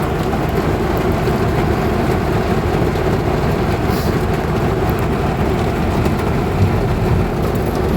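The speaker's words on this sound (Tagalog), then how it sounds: "grabe lakas ang ulan" Heavy rain pours down in a dense, steady roar of broadband hiss, loud and unbroken throughout, with no voices.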